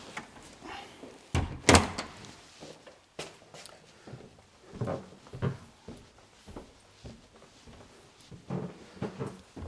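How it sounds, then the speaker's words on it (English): An interior door in a three-bedroom town house is pushed shut with a solid, close thud, followed by softer knocks and scattered footsteps nearby. "Just shut the door."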